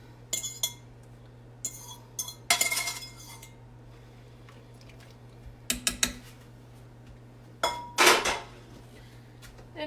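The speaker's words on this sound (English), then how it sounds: "And here's the black bean that I cooked. I'm gonna add those in." Cooked black beans go into a pot for vegetable chili mac: a few sharp metallic clinks and scrapes of a utensil against cookware, spaced out over a faint steady hum.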